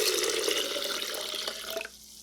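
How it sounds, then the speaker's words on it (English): Four cups of water poured into a Vitamix blender jar of cashews, a steady close splashing stream that thins toward the end and stops abruptly, with no talking. "So 4 cups of water added to this."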